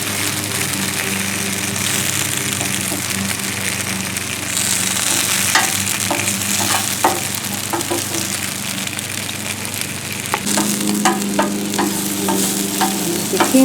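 Peppers and zucchini sizzle steadily on a hot griddle, a loud continuous frying hiss, with occasional scraping and clicking of a utensil stirring the vegetables.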